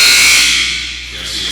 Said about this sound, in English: And McCaskill, three-pointer, banks it in off the glass at the buzzer.